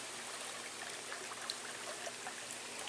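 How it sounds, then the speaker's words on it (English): A creek flows across a campground, a steady, close trickling and rushing of water with faint splashes and no other sounds. "Look at this creek coming across here."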